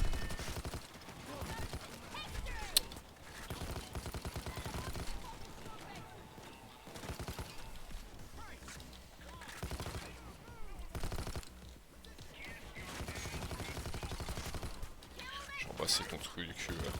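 Bursts of minigun fire from Bulldozer enemies on a suicidal-difficulty Payday 2 heist rattle repeatedly amid chaotic game noise, with a player talking over the action.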